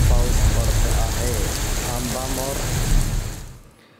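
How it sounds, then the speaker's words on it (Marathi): Steady unseasonal rain falls across several talukas of Washim district, a dense continuous hiss of drops on surfaces that stays loud before fading out near the end, with faint voices underneath. "तिकडे वाशिम जिल्ह्यातील देखील काही तालुक्यात अवकाळी पाऊस बरसलाय"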